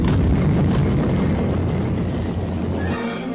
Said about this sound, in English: Watch that hook catch the arrestor wire.